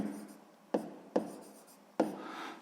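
A pen writes an answer to a sixth-grade maths exercise: three short, quiet strokes tap and scratch against paper, heard close up with no talk.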